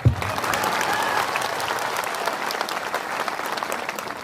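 A crowd at an indigenous political rally about Greater Tipraland breaks into steady, even applause, a dense wash of clapping held at a constant level for a few seconds.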